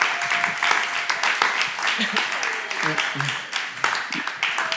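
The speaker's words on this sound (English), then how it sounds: "if we give them a round of applause for just coming up out here" Audience applause at a youth event panel, scattered uneven clapping from a modest crowd with voices talking and calling out over it.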